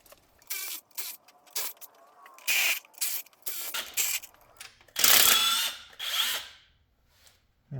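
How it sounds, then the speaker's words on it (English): A power tool removes intake manifold bolts on a Ford 351W engine, with short repeated whirring bursts separated by brief pauses, close and fairly loud. "now we can take the bolts out of the intake"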